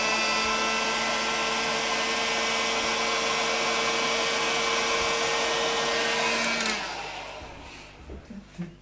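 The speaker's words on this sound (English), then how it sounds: "bring me heat gun, bring me heat gun." A heat gun blows with a steady, loud whirring hiss in a guitar setup workspace, holding constant for several seconds before switching off and winding down into quiet handling noises.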